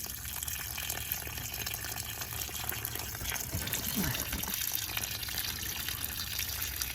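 Water gushes steadily from opened RV holding tank drain valves during winterizing, a continuous broadband rush that stays even and fairly loud for the whole stretch.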